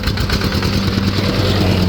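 A 10-horsepower KRT 140 PTO single-cylinder tractor engine runs at idle, with a loud, close, steady chugging pulse and no voices.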